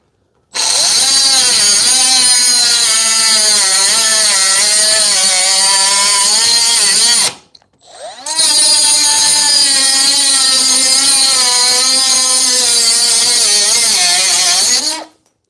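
A cordless cut-off tool, a DeWalt 20V DCS438 or Milwaukee M12 2522, slices through 1/8 inch metal with a loud high-pitched whine in two long passes separated by a brief pause, no voices.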